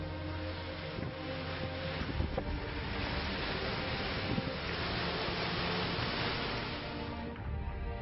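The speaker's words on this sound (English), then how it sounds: "That wind has really started to pick up." Strong storm wind roars and buffets steadily in a low, constant rumbling rush that swells slightly, with no talking.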